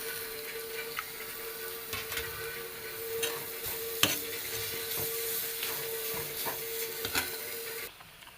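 Chopped banana and grated coconut sizzle and fry in ghee in a pan, a steady close crackle with scattered stirring clicks and scrapes throughout, no voices.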